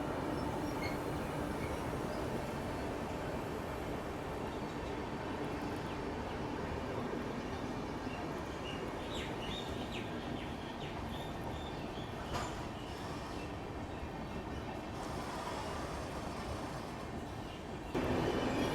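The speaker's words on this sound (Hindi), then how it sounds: "चेन्नई मेल का डिपार्चर" Chennai Mail express train pulling out behind a WAP-7 electric locomotive near Balasore, a steady rumble of wheels and carriages running continuously, with faint squeals and clanks rising above the rolling din.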